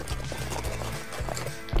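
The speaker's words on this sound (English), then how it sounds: "That's why they start you out with a horse." A horse's hooves clip-clop at a steady walking rhythm in the Forestry Sim 2017 video game. The evenly spaced, fairly close thuds repeat over a low hum, with no talking.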